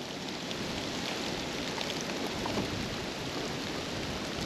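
Water streaming steadily down a rain-soaked tree trunk near a salt lick, a dense, continuous hiss and patter like heavy rain running close by, with no pauses.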